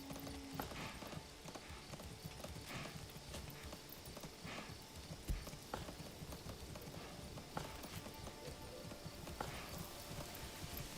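Horse hooves clip-clop steadily in the medieval village sim Manor Lords, a continuous patter of many soft hoof taps heard alone at moderate level.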